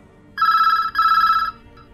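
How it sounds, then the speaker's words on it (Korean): A telephone bell rings in two steady electronic bursts of similar length separated by a short break, clear and prominent over a quiet background. "수사팀이 남편을 체포하기 위해 준비를 서두르던 그때 한 통의 전화가 걸려왔습니다."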